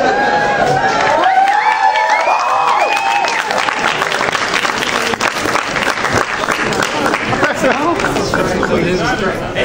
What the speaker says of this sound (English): That was that applause for me.